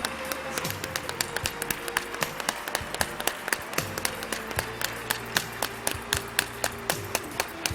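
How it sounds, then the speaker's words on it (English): Applause for the principals at a school annual day celebration, heard as sharp, evenly spaced claps, fairly close and steady, over a low background drone. "Once again, a big round of applause for our respected principals."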